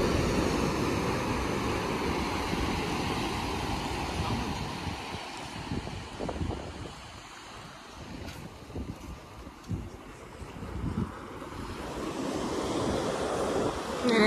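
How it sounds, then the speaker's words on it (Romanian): Ocean waves breaking on a beach in Tenerife, a loud continuous roar of surf with wind rumble, easing briefly in the middle before swelling again, no voices. "auziți sunetul valurilor"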